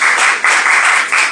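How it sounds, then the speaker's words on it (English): At a secondary schools debating competition, an audience claps for the debaters, loud and close, in a brief dense burst that dips and swells again. "Let us clap for them."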